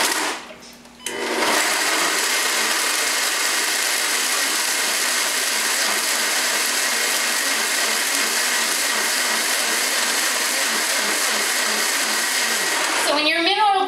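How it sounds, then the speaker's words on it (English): A blender blending Irish moss whirs at high speed, loud and steady for about twelve seconds after a short start, then winds down at the end. "So I'm gonna go ahead and blend this."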